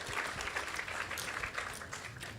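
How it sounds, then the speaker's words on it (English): Short stretch of audience applause at a temple program, a dense rippling clatter of many hands at moderate distance, lasting a couple of seconds. "let's give her a big round of applause as well."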